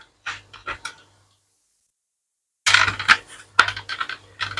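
Plastic back of a Ford Focus instrument cluster snapped into place, a run of sharp close clicks and rattling plastic handling, then a silent pause before another louder burst of snapping and clicking.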